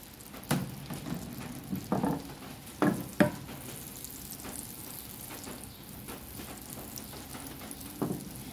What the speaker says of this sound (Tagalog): Lagyan natin ng butter, unsalted butter gamit natin ng sangkay. Tunawin lang natin.